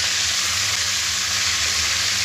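Chicken pieces for a chicken roast frying in hot oil, giving a steady, loud, close sizzle with a dense hiss that holds constant throughout, no voices.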